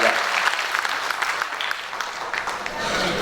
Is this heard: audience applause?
yes